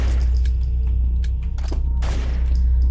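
Gunfire at target practice in a quick-made indie video game: a few sharp shots and bursts over a loud, constant low hum, with a brief cluster of impacts near the middle.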